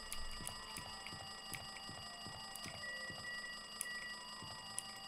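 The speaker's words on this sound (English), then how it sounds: "Oh, looks like that phone is ringing." Telephone ringing in the Danganronpa 2 video game: a repeating electronic bell-like ring pulses steadily in short bursts over a constant tonal hum, moderately loud with no talk.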